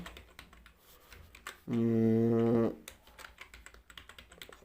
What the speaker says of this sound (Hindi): जैसे कि मैं यहाँ पे टाइप कर देता हूँ